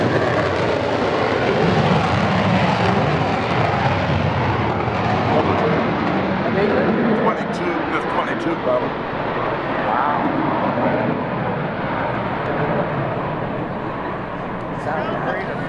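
Steady, dense roar of B-17 bomber piston engines heard from inside the aircraft in flight, loud and continuous throughout, with voices faintly mixed into the drone.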